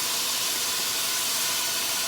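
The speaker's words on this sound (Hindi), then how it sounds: "थोड़ी देर के लिए इसे फ्राई करते हैं" Onions and spices frying in a pan for chicken yakhni pulao, a steady broadband sizzle and hiss with no breaks, close and fairly loud, with no talking.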